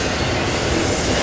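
Norfolk Southern 211 intermodal freight with AC44 Dash 9 locomotives rolls southbound on track 1 at Lowell, hauling 53-foot containers and trailers; a loud, steady close-up rumble of wheels and cars with faint rail clatter, no voices.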